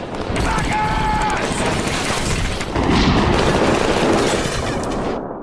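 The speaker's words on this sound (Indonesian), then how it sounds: "Aksi baku tembak yang edun terjadi hingga menimbulkan kekacauan yang besar" Gunfire crackles through a chaotic shootout between bank robbers and SWAT officers, dense bursts and booms layered under music and continuous narration in a dramatic movie scene.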